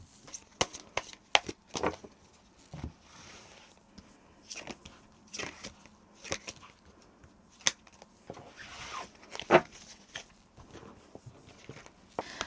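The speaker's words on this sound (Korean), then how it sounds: "그럼 저희 이번 메이트님들은 어떻게 생각하는지 그 부분에 대해서 한번 카드를 뽑아보도록 하겠습니다." Tarot cards are shuffled and drawn by hand, a series of quick papery riffles and soft slaps in irregular bursts, close and fairly quiet with no talk.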